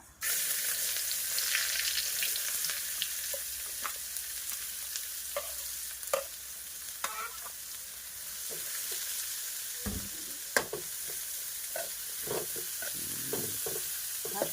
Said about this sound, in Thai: เสร็จแล้วก็ใส่ ตะไคร้ใบมะกรูดซอยแล้วก็หอมซอย หอมแดงซอยนะจ๊ะ อ๋อลงไปพัดนะจ๊ะ